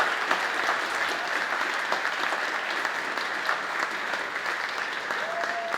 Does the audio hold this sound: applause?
yes